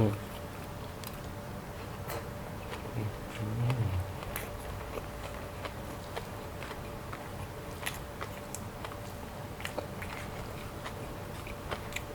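Crispy fried mackerel being bitten and chewed close up, soft crunches and scattered clicks over a low room hum, with brief murmuring voices.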